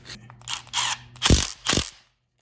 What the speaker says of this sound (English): now tighten them up with a gun